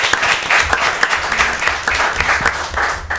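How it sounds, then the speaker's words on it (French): Audience applause for a message at a school holiday event, steady dense clapping from a crowd filling the whole stretch, loud and close with no talk over it. "Ça s'applaudit quand même."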